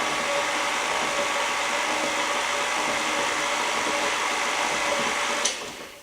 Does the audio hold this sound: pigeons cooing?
no